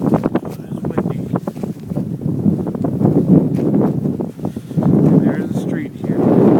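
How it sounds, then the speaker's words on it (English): Steady, roaring wind during a Chicago blizzard in the early morning, a close blustery rush with several gusts, while a person talks intermittently through it. "It's windy."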